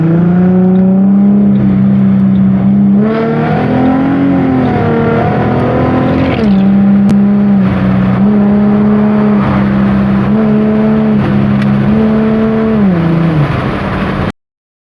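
A WLtoys 1/12 scale 4WD electric all-terrain off-road RC car drives continuously, its motor whining steadily and rising and falling in pitch as it speeds up and slows down, loud and close throughout with no talk.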